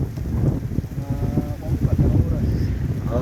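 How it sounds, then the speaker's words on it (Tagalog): Strong wind buffets the microphone with heavy low roaring gusts, while someone speaks over it. "Ay, lakas ng hangin."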